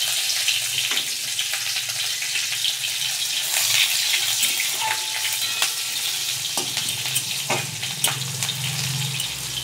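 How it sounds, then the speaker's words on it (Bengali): Whole cumin and fennel seeds sizzle in hot oil in a wok, a steady bright crackle with a few sharp pops and faint clinks, no talking. "কড়াইয়ে তেলেতে ফোড়ন দিয়ে দিয়েছি, গোটা জিরে, পানমৌরি।"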